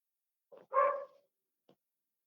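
Neighbors' dogs: one gives a short yelp and then a longer bark, followed by a faint brief bark, sounding somewhat distant against silence.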